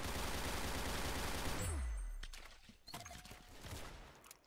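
Video game gunfire pours out in a dense, loud rapid burst that cuts off abruptly, followed by a few scattered, fainter shots and game effects.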